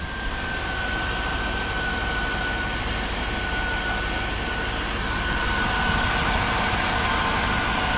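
A 1997 Chevy Tahoe engine runs steadily just after starting, a constant, fairly loud idle drone with a thin steady whine, holding even for about eight seconds with no talking.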